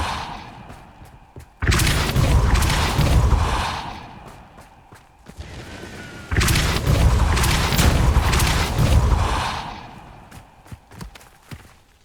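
A Depulso force spell cast in Hogwarts Legacy lets out two heavy booming blasts a few seconds apart, each swelling loud and then fading, with faint scattered footsteps and small impacts in between.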